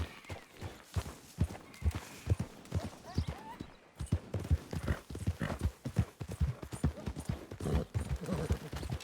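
Horse hooves gallop in a video game with a quick, steady clip-clop that stays close and loud the whole time, with no pause in the rhythm.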